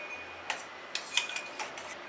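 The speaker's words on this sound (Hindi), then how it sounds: "चला के मिक्स कर देंगे।" A few light metallic clinks of a spoon stirring in a metal pressure cooker, spaced irregularly over quiet background hiss.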